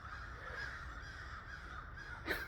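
Crows caw outdoors, moderately distant, over a constant low background hum, with a sharper call near the end.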